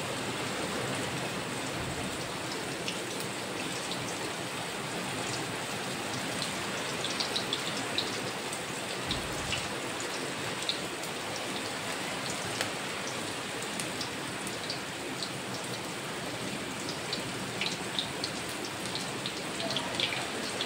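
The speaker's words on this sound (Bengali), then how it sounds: "এবার সজনে ফুলগুলোকে গোল গোল করে তেলের মধ্যে ছেড়ে দিতে হবে।" Drumstick flower fritters deep-frying in hot oil, a dense, steady crackling hiss like heavy rain that runs evenly throughout with scattered sharper pops and no talk.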